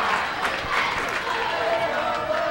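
Crowd chanting at a 1998 girls basketball playoff game, Sterling vs Audubon, in the final 40 seconds, a steady roar of many voices filling the gym with continuous crowd noise.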